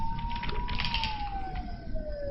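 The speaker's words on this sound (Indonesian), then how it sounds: "Sementara sirene polisi dari kejauhan mulai mendekat." A police siren sounds in the distance, its tone slowly gliding over a rumbling background of traffic noise.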